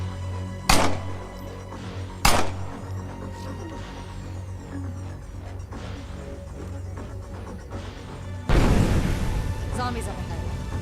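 Explosions in the zombie video game State of Decay: two sharp booming thuds early on over a steady low game drone, then a louder, sustained crashing blast near the end.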